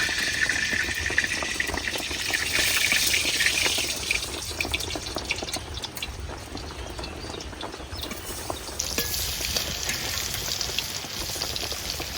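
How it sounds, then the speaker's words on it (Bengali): Whole ripe pointed gourds fry in mustard oil in a pan, giving a constant close crackling sizzle with no voices over it. "পাকা পটল ভাজলে একটু তেল বেশি দিতে হয়"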